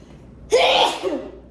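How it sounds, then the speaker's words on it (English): A single loud sneeze bursts out after a quiet moment, a sharp breathy explosion that trails off with a short follow-up exhale. "I'm going to sneeze."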